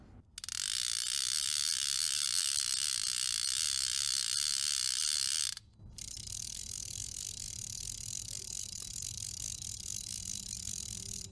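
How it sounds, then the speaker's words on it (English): A Shilton SL fly reel clicks loudly and steadily at close range as line is retrieved, a fast continuous ratcheting buzz that breaks off briefly, then resumes as a softer, lower clicking run. "this reel has a fantastic incoming. It's one of the loudest and honestly a very good incoming sound."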